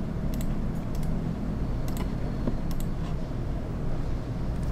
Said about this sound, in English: So I just type how to connect GoDaddy to Blogger.